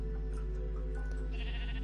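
A single sheep bleats once in the Minecraft video game, a short, faint cry set over a steady low hum.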